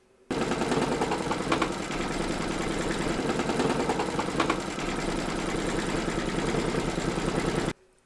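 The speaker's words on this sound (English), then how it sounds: "Load your matching bobbin and thread colour for the satin stitching around the plinth into your machine, and then stitch round number 9" An embroidery machine sewing a beige satin stitch around the plinth of a Statue of Liberty appliqué, a steady fast mechanical whirring with rhythmic needle clatter running for several seconds.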